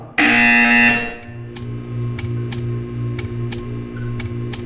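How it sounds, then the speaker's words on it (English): A loud buzzer in the video game Portal 2 sounds alone for about a second, followed by a steady series of regular ticking clicks over a low hum. "You will hear a buzzer. When you hear the buzzer, stare at the art."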